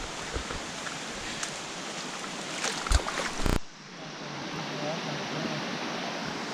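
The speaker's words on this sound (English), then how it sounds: "it looks like we're coming up to a creek" Creek water rushes steadily past a hiking trail on the way to the Devils Bathtub, a continuous close hiss of flowing water with a brief clatter partway through.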